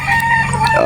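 A gamefowl rooster at a Batangas game farm gives a loud, close crow in a brief burst with clucking fowl mixed in.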